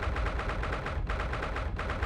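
Low-rendered fire crackling and roaring in The Great Ace Attorney Chronicles, a steady, dense, loud rush with rapid popping texture that continues without a break.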